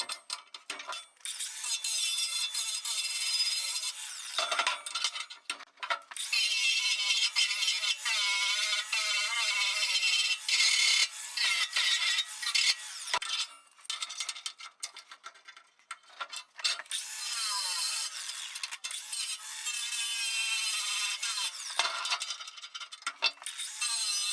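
Metal pieces are cleaned up ahead of welding, giving a harsh, continuous mechanical scraping and grinding that runs almost the whole time, broken by a few brief pauses, fairly loud and close with no talking.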